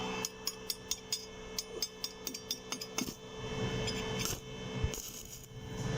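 A Shinsetsu inverter arc welder runs with its arc force turned down low. A run of sharp, evenly spaced crackling ticks gives way to a denser, continuous sputter and hiss, up close and with no talking.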